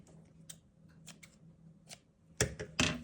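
Scissors cut leftover stitching fabric in a few crisp, quiet snips, spaced irregularly and then clustered near the end, close up over a soft background.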